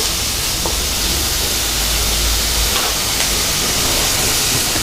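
Mutton varuval ingredients with salt sautéing in a pan: a loud, steady sizzling hiss that continues unbroken, with no talking.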